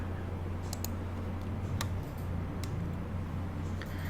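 A few sharp, isolated clicks, faint against a steady electrical hum, spaced irregularly like a mouse being pressed.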